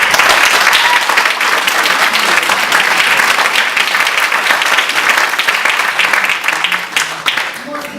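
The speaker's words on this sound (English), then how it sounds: "So one more round of applause." Loud, sustained audience applause fills an honorary fellowship award ceremony, a dense wash of many hands clapping steadily for the full length before easing slightly at the end.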